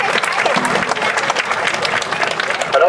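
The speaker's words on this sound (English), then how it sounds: "Let's give them a round of applause." Applause from the crowd at an elementary school groundbreaking ceremony, a steady burst of many hands clapping at close range for about three seconds.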